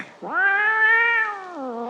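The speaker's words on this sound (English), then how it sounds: "A cat mewed at me." A cat meows once in a long, clear, drawn-out call with a falling tail, close and loud against an otherwise quiet background.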